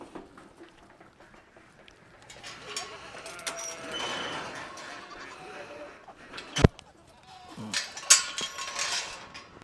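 Goats on a farm bleat amid scattered clanks and rustling, several calls rising over a low background of movement, with a person's voice calling in between.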